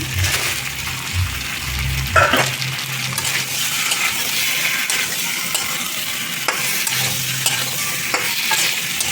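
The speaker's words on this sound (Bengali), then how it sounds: "ডিমগুলো দিয়ে একটু কষাবো।" Whole eggs stirred and fried with potatoes in a hot pan for a light Bengali egg curry: steady sizzling with repeated scraping strokes and occasional clinks of the spatula, close and continuous, with no talking.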